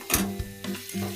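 Small onions fry in hot oil for a Tillu curry, a soft, steady sizzle with a few scraping stirs and light clicks of a spoon against the pan, close and quiet.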